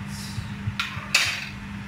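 A utensil scraping and clinking against a pan of beef lasagne meat sauce: two quick sharp metallic scrapes over a low steady simmer, close and fairly clear.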